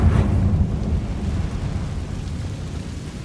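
A Confringo blasting spell explodes in Hogwarts Legacy with a loud, close blast followed by a sustained low rumble that tails off gradually, like distant thunder.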